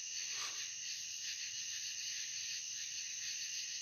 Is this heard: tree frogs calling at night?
yes